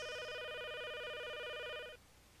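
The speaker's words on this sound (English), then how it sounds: "That phone is ringing." An indoor telephone bell rings in one steady, fairly quiet burst lasting about two seconds, then cuts off, leaving faint room tone.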